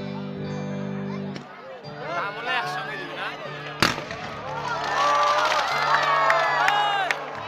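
Fireworks crackle and pop over a large crowd at a football tournament closing ceremony, with cheering and shouting throughout, a sharp bang near the middle, and someone talking over a loudspeaker.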